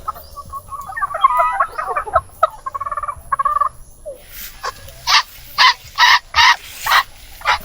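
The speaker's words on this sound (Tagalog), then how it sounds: "Andito yung mga heritage chicken." Heritage chickens and Pekin ducks in a pen: soft overlapping clucks and chatter, then a run of six loud, evenly spaced calls close by, with no talking.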